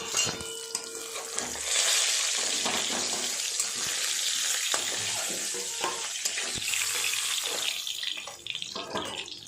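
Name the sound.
frying fish in a pan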